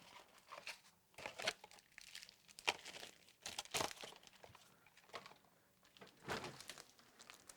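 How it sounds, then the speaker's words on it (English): A plastic bag being handled for a circuit board repair, with quiet irregular crinkling and rustling in short bursts, fairly faint. "let me get a plastic bag for this machine."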